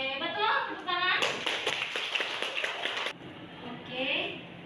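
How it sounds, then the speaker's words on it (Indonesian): Students in a vocational high school classroom break into a burst of clapping that lasts about two seconds. Voices talk just before and after the clapping. "Oke, betul, tepuk tangan."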